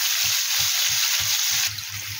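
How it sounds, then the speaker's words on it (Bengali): Cauliflower pieces fry lightly in hot oil with a steady, bright sizzle, while soft low thumps pulse underneath at a regular rhythm and ease slightly near the end. "এটা ভাজা হোক হালকা করে, কোনো বেশি লাল করে ভাজবো না"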